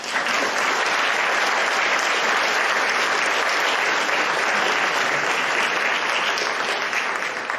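An audience at an Advent concert of a music school claps in loud, sustained applause, a dense even wash of hands that holds steady for the whole stretch without any talking over it.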